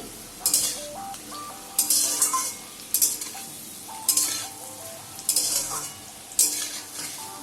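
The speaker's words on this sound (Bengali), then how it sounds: "আলু আর পেঁপেটা ভালো করে লাল লাল ভাজা হয়ে গেছে।" Potatoes and papaya for a curry fry in a covered pan, with repeated sharp bursts of sizzle and spoon clatter as they are stirred every second or so, close up.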